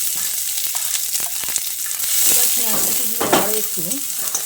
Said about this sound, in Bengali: এবার আমি এর মধ্যে দিয়ে দিচ্ছি কেটে রাখা পেঁয়াজটা